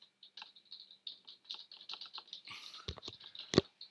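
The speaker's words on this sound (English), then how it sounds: "let's now see how that sounds with the type-in sound effect" Computer keyboard typing sound effect laid into a video edit, a quick run of clicky keystrokes in uneven bursts, fairly close and somewhat loud, with a few heavier key strikes near the end and no talking.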